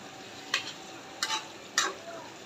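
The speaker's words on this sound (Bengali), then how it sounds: "এখন এভাবে নাড়াচাড়া দিয়ে দিব" Pointed gourd and rohu fish curry stirred in a pan, three short scraping strokes spaced about a second apart over a faint background hiss, with no speech.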